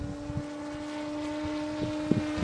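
FBTF1 model airplane propeller during a test flight: a steady high-pitched electric motor whine with a constant tonal drone, moderately close, over wind buffeting and light thumps, no talking.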